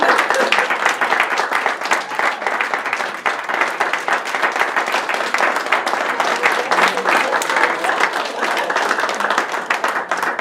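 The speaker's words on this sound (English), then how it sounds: "we can applaud each other one more time" Guests at a banquet applaud one another in loud, dense, continuous clapping that fills the room for around ten seconds.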